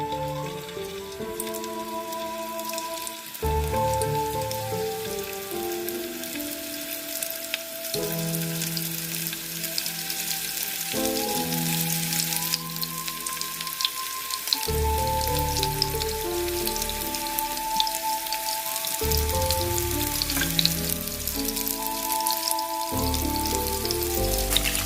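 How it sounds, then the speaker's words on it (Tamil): Marinated prawns for crispy restaurant-style Prawn 65 deep fry in hot oil with a steady, dense sizzle and crackle throughout, under looping background music. "இறாவை போட்டு ஃப்ரை பண்ணிடலாம்"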